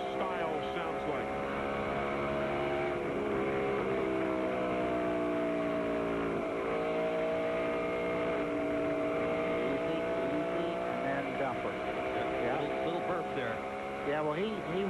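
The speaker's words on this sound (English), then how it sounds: "let's listen to Mark Martin as he comes out of four and goes to turn one" Mark Martin's stock car at the 1999 MBNA Platinum 400 comes out of turn four toward turn one, its engine a sustained, droning roar with rising and falling pitch, steady and loud throughout, with a voice faintly under it.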